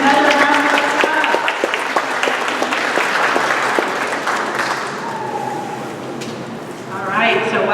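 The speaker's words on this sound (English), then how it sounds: "Let's give them another round of applause." An audience at a cultural sharing night of Native dance and song claps loudly after a performance. The applause fades gradually toward the end and then picks up again briefly.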